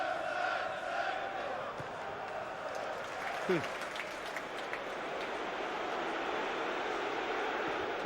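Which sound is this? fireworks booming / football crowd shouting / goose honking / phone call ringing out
football crowd shouting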